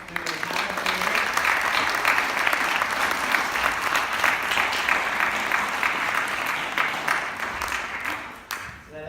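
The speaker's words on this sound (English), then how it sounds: "can we just have a little round of applause for Lulu and Hannah?" A school assembly audience applauds two pupils back from gymnastics British Championships with a loud, dense, sustained round of clapping that holds steady for several seconds before thinning and fading at the very end.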